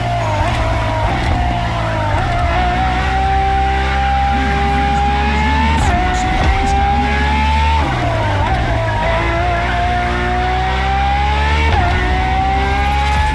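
Ferrari FXX K hypercar racing in The Crew Motorfest, its engine revving hard through repeated rising gear pulls with brief shift dips, loud and close, with faint tyre squeal.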